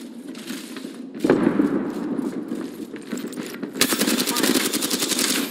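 Rapid automatic gunfire from a match of the Apex Legends video game, loud and close in dense bursts, with people talking over the shooting.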